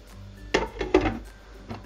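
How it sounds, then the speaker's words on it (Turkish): A frying pan lid is set down over chicken pieces in the pan, giving a few close metallic clatters and knocks in quick succession over a quiet background. "şimdi tavamın kapağını kapatacağım"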